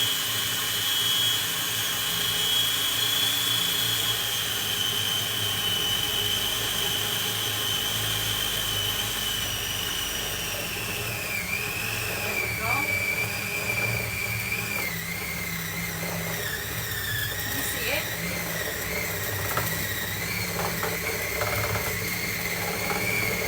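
A food processor pulses vanilla scone dough, its loud motor whine steady and close throughout, with a pitch that wavers and clunks slightly partway through as the dough forms a lump.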